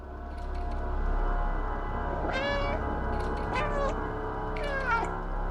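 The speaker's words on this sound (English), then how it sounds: "I feel like I'm hearing two cats meowing" A cat meows in the video game Stray, with the sound also played through the game controller's speaker: three separate rising-and-falling meows spaced about a second apart, clear over a steady low background hum.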